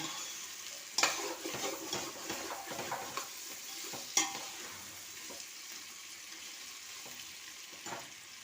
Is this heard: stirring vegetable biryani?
yes